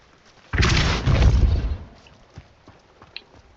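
A Depulso spell blast in Hogwarts Legacy bursts as a loud, broad whooshing boom lasting over a second, then dies away into quiet with a few faint small knocks.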